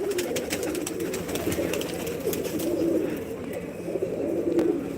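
Red Chinese pigeons coo in a loft, a dense, continuous chorus of low throaty coos from several birds close by, with no one speaking.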